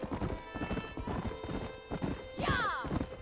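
Horse hooves clip-clop steadily in a quick rhythm in the video game Red Dead Redemption, layered with game music and a brief horse whinny near the end.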